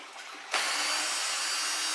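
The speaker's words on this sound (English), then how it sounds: "Grab my cordless." A cordless drill spins up suddenly and runs with a loud, steady whirring whine while working on the top cover of an Echo CS-400 chainsaw during a carburetor replacement, after a quieter moment of handling.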